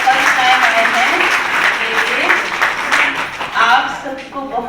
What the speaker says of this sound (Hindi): सब इनके लिए ताली बजाओ, जोर से ताली बजाओ।